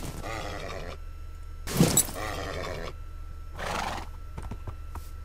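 A horse neighs in a Minecraft UHC survival game, a loud whinny followed by snorts and grunts, separated by brief silences and with faint clip-clop.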